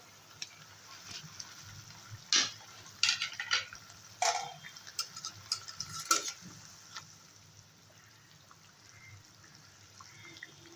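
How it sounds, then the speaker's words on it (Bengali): Pieces of bacha fish go into a hot pan for a Bengali fish jhal curry, giving a low, steady sizzle broken by several sharp clatters and scrapes, with no talking. "ঢাকনা খুলে দেবো গ্যাসের ফ্লেম বাড়িয়ে দেবো মাছগুলো দিয়ে দেবো"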